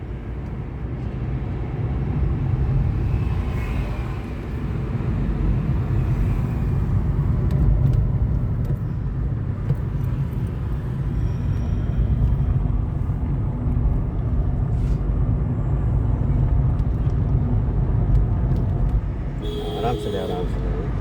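Steady engine and road rumble inside a car moving along a highway during a driving lesson, a continuous droning hum that holds for the whole stretch with no clear voices over it.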